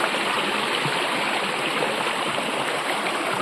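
Continuous rushing of flowing stream water at Dakala Dam, close and fairly loud, steady throughout with no voices.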